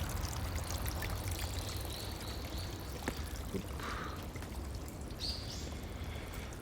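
A small stream in Kyoto trickles and pours steadily in a continuous close wash of water, with faint bird chirps above it.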